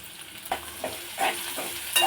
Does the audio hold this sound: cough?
no